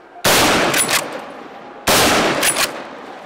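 Two loud, close rifle gunshots at boar hunting training, each a sharp crack with a short reverberating tail, spaced well over a second apart, with no talking.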